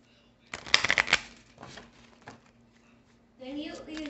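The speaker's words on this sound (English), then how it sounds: "Let's shuffle them." A quick, crisp riffle of shuffled tarot cards, then softer, scattered shuffling; a voice speaks briefly near the end.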